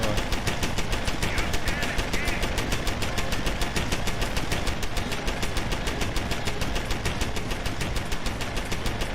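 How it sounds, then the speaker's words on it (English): A turret in the video game Deus Ex: Human Revolution firing in a long, rapid, evenly spaced automatic burst, loud and close, continuing without pause. "We've got the worst turret ever."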